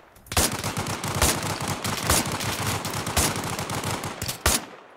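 Automatic and single gunfire in the Arma Reforger battle game, rapid bursts of shots aimed at the player, loud and dense across the whole stretch with sharper heavy cracks standing out now and then.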